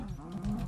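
A cow in the Minecraft Twilight Forest game lets out a single short, low moo, fairly faint and heard alone.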